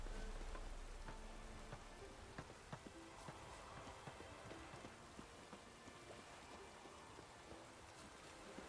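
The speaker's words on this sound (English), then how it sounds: "raining again." Soft, steady rain falling in the video game The Witcher 3, with scattered drips and patter, faint and continuous with no voices.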